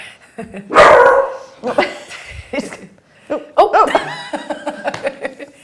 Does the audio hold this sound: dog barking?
yes